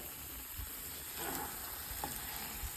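Green chilli thokku fries in hot oil with a steady, close sizzle and soft crackle, a couple of faint stirring scrapes on top and no talking.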